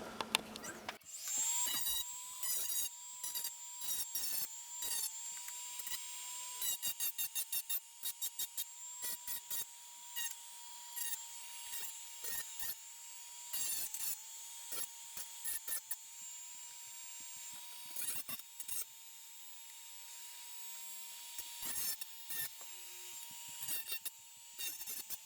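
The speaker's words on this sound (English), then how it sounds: "Let's clean it up with the sanding disc and see what it looks like completed." Sanding disc smoothing a plastic Genesis cartridge case built around a Raspberry Pi 3B, a loud whining spin in repeated bursts with stops and restarts, close up and without speech.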